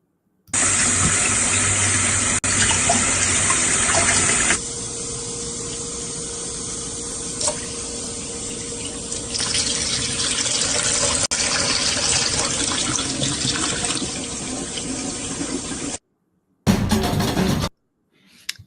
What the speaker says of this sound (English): That was the water